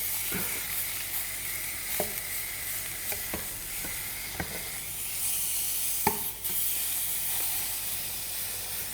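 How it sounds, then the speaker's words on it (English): A thick steak sizzles steadily in a hot pan, a continuous hiss of frying with occasional sharper pops and spatters, close and moderately loud with no voices. "This is the first steak I've ever cooked in my life."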